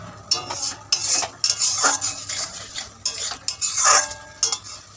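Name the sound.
stirring food in a pan with water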